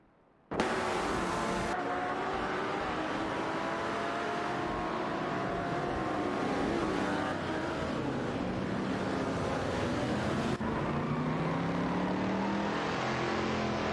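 Race cars in an AI racing game accelerating through turns: a continuous loud engine drone with several overlapping rising and falling engine tones as cars rev and shift, steady from just after the start to the end, no voices.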